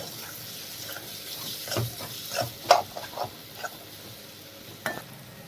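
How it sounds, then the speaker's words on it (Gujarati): Ridge gourd being sautéed and stirred in a pan, a soft steady sizzle broken by several sharper scrapes and clatters of the spoon, close and moderately loud with no talking. "તુરિયા એડ કર્યા પછી તેને આવી રીતે સતળીશું"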